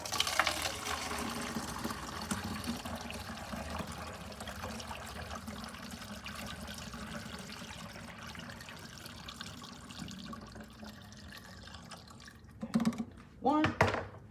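Ginger juice trickles and pours steadily into containers, a continuous wet splashing that ends with a couple of short, sharper pours near the end.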